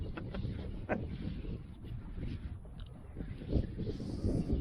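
Strong wind blows outdoors in steady, faint buffeting gusts of rushing noise against the microphone, with no voices, during a small racing drone flight on a windy day.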